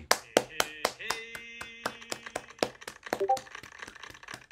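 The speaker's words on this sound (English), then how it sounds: "let's make a big applause for this new community" A small online community event gets a round of applause: a sparse handful of sharp, distinct hand claps, some close and loud, scattered unevenly over a few seconds with faint tonal sounds in the background.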